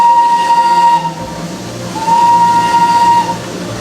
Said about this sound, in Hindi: और क्या पता ये ट्रेन आपके साथ साथ ही चलने लगे